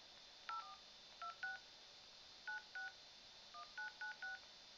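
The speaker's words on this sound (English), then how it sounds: "I'm actually going to call back to my desk phone here." A phone dials out to a desk phone over Wi-Fi calling, giving a string of short DTMF keypad tones in irregular groups of two to four beeps. The beeps are clear and fairly quiet over a faint hiss, with no talking.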